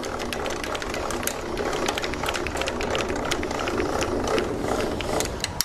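Hand winch being wound down on an SUV camper, giving a steady run of ratcheting mechanical clicks and gear rattle that continues evenly throughout at close range, with no talking.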